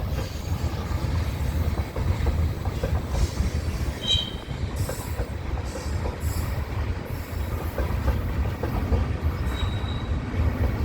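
A manifest freight train rolls past close by with a continuous low rumble and steady wheel noise, punctuated by high-pitched squeals from the wheels on the rails.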